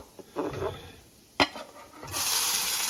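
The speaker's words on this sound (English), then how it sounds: "Okay, and those will saute for a little bit" Onions sautéing in a pan alongside browning rice, a soft steady sizzle with a clatter of stirring and a sharp utensil knock, the frying growing louder and brighter toward the end.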